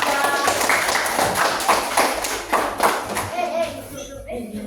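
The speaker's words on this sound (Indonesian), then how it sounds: "Beri tepuk tangan anak-anak untuk kelompok" Children clap together in a classroom to applaud a group, a dense run of quick hand claps that carries on under an adult voice speaking.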